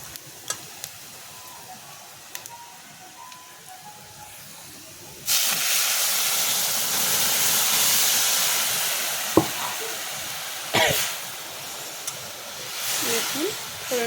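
Spices tempering in hot oil for jackfruit seed dal give a quiet sizzle, then a sudden loud hiss of steam around five seconds in that lasts to the end, with brief clatters of stirring.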